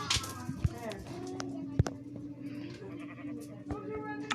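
A sheep-like creature in an evolution video game gives several short bleats amid busy game sounds, with sharp clicks and tonal cues scattered through.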